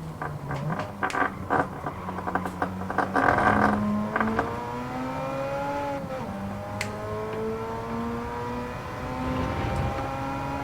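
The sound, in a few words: racing car engines in Gran Turismo 7 video game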